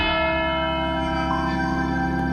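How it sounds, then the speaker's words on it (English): Church bells ringing loud and sustained, a dense wash of overlapping metallic tones and long ringing overtones filling the whole stretch with no talk. "And the bells are chiming loud."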